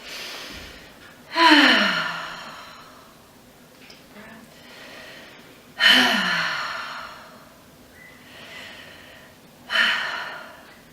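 Three deep, audible breaths come at steady intervals, each a strong rush of air that swells and then trails off slowly, close and clear during a guided breathing exercise.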